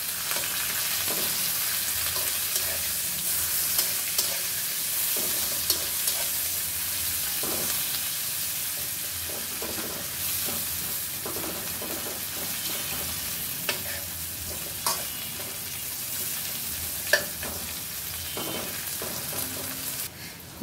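Dried fish (shutki) fries with already-fried onions in a pan, a steady close sizzle broken by frequent scraping stirs of the spatula, with no talking.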